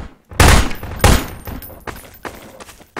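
Gunfire in the video game Garry's Mod as shots hit bottles: two loud, close bursts in quick succession, followed by softer scattered impacts and clatter.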